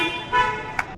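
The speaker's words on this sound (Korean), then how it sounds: "지금 웃으면서 클락션 누르고 있어요" Car horns honk between cars on a rainy street, giving a couple of short toots close by, one brief blast followed by a sharper quick beep.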